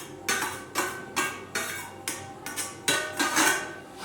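Grated raw mango being added to a metal kadhai, heard as a steady series of about eight close, sharp metallic scrapes and taps, evenly spaced, with no voices.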